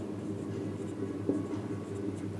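Pen or chalk writing coordinates for a geometry problem, a soft, faint scratching stroke that runs continuously for a couple of seconds with one small tap, no voices.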